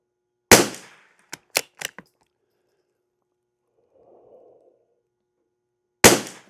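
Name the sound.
rifle shots firing CCI standard velocity rimfire ammunition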